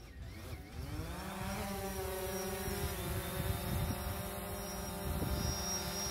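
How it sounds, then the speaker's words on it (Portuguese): A drone spins up and takes off over oat and ryegrass pasture, its propeller whine rising in pitch during the first second or two, then holding a steady, fairly loud buzzing drone with no talk. "então vamos decolar o drone, vamos lá."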